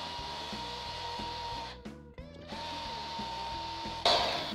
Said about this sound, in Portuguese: E o secador de cabelo joga o calor e descola aí a cola.